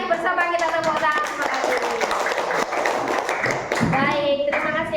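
Children in a classroom clap their hands together in an uneven burst of claps, with young voices chattering over the clapping throughout.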